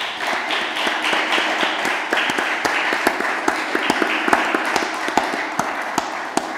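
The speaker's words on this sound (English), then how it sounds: "if we could have a round of applause" Audience applause for the candidates after a 2020 Vermont governor forum at Mad River Barn, steady dense clapping with a few sharper individual claps standing out, filling the room without speech.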